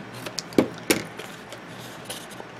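Scissors make a few quick cuts through paper for a handmade mini album, two sharp close snips followed by lighter rustles and clicks in a quiet room.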